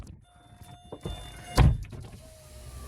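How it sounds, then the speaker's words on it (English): Electric power windows on a used car roll down, with a soft whirring motor hum, faint clicks and a sharper thunk as a window stops, heard close inside the cabin. "you always want to make sure they all roll down"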